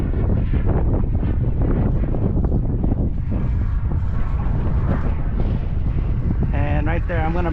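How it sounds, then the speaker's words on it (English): Strong wind buffeting a microphone outdoors beside a Global Jet Club Hummingbird, a loud continuous rumbling roar that masks other sounds, with some muffled voice mixed in. "the wind just picked up big time over here"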